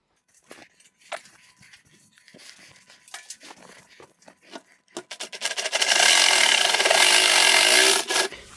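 A hand saw cuts through an IKEA Lack table: quiet scattered wood knocks and handling first, then a loud, steady rasping run of saw strokes for about three seconds before stopping.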